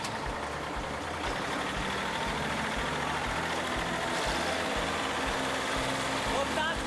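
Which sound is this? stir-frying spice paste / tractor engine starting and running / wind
tractor engine starting and running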